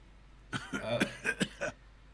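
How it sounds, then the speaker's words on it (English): A man in a video game coughs several times in a quick burst, harsh and throaty, close up against a quiet background. "He coughs and wipes his mouth."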